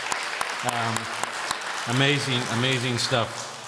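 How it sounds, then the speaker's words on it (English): An audience claps for panelists at the close of a technology industry panel session, a steady round of applause heard under a voice speaking over it. "Let's give them a great round of applause."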